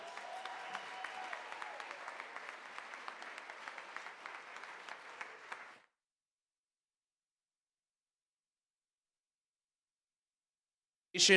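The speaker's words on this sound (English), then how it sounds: "One more round of applause, please." An audience gives a round of applause at the annual Mayor's Arts Awards, crisp clapping for about six seconds before cutting to silence, followed by a brief burst of sound at the very end.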